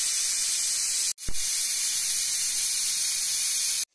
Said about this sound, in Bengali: প্রেশার কুকারের মুখ আটকিয়ে একটা করে সিটি দিয়ে নেব।